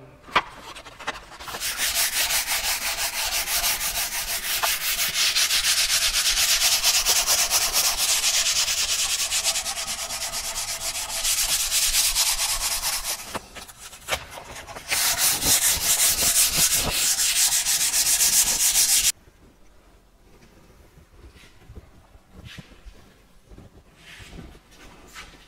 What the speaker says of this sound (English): So I'm just doing a light hand sand with